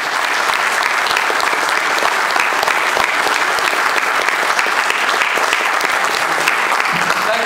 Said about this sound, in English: So therefore, give a good round of warm applause